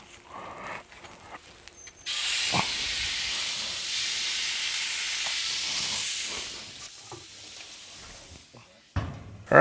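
A prime rib cooking fat side up gives off a loud, steady sizzling hiss that begins abruptly, holds for several seconds, then fades, with scattered clunks and handling noises before and after.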